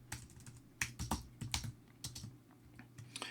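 Keys being typed on a computer keyboard while writing code, irregular bursts of clicky keystrokes at close range over a steady low hum, with no talking.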